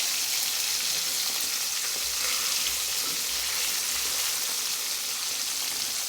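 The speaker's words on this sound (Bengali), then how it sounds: "এখানে আমি কড়াইয়ে তেল গরম করে মাছগুলো ভাজতে দিয়েছি" Kholshe fish sputter in hot oil in a wok, a steady bright hiss of frying at close range with faint low bubbling beneath, unbroken and without voices.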